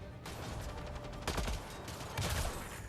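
Bursts of gunfire from the Mass Effect Andromeda video game, rapid clustered shots fairly distant and moderately quiet, with two louder volleys toward the middle and end.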